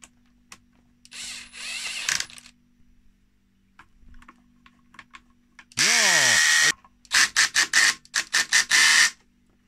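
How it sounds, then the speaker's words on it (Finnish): A cordless drill driver whirs in short bursts: one early run, then a winding spin-up and several quick triggered pulses, with quiet clicks between. "Momentti porakonen"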